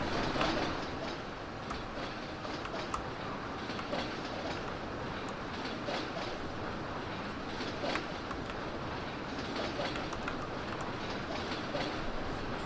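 A train rolls along rails in the Rule the Rail game, a dense, loud, continuous rumble with faint clickety-clack wheel beats running steadily throughout, no voices.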